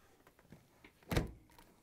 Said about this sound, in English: Now that we have the side panel on, we can close the dishwasher door.